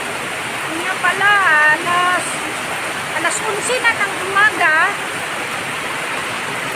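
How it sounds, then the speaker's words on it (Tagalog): Heavy rain pours down as a loud, steady rushing hiss, with a person talking intermittently over it. "Lakas ng ulan, guys."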